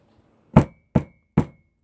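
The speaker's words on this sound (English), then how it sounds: "His gloved fist banged on the workhouse door." A gloved fist bangs on a workhouse door three times, each knock heavy and close, evenly spaced about half a second apart, with silence between and no voices.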